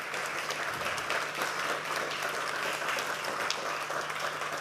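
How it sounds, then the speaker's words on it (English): An audience at a rail industry seminar applauds the speakers with steady, even clapping that holds at a moderate, somewhat distant level for the whole stretch, with no voices over it. "So can we have a round of applause, please,"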